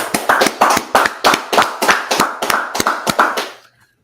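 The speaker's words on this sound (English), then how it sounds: "All right, let's clap it up." A group claps together in a steady, fast rhythm at a gathering in Washington DC, about a dozen loud, close, percussive beats that stop abruptly after a few seconds.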